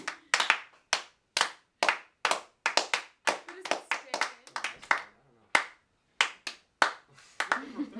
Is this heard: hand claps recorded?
yes